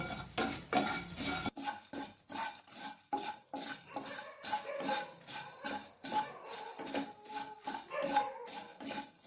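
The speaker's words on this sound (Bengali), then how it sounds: "এরপর এগুলোকে শুকনো কড়াইয়ে হালকা ভেজে নেব।" Whole spices (green and black cardamom, cloves, dried red chillies and black peppercorns) dry roasting in a dry wok, with repeated close scraping and clinking of a stirring utensil against the pan in an uneven rhythm.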